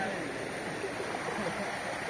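Clear river water rushes steadily close by during a river crossing on the way to waterfalls in Zambales, a constant broad wash with no pauses and no talk over it.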